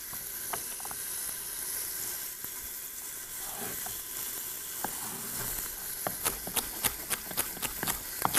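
Vegetables sizzle in an Italian cook's pan, a steady broadband hiss. Toward the end a series of sharp scraping clicks comes as they are stirred.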